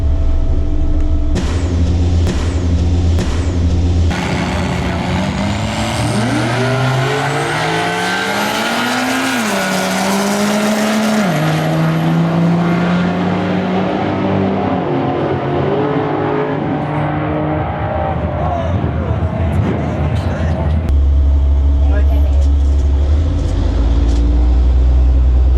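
A 6.7 Cummins diesel drag race truck launches down a quarter-mile strip, with a loud, close engine roar climbing through several gear shifts, then fading as the run ends, followed by rough idling.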